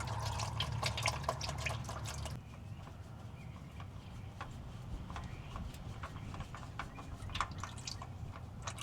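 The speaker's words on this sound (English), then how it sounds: "Crack it and let it drain." Engine oil drains from a loosened oil filter on a 2017 GMC Yukon into a pan, a faint, steady trickle broken by scattered drips and small splashes.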